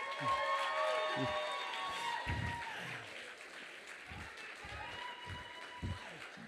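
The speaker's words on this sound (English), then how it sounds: "So we just give them a big, big round of applause" Sustained audience applause with cheering at an intern takeover event, a dense crowd wash of clapping that stays loud throughout, with tonal background sounds and a voice mixed in.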